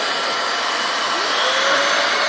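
Several Dyson vacuum cleaners run together indoors, giving a steady, loud motor whine with a sustained tone rising slightly in pitch partway through, alone without any talk.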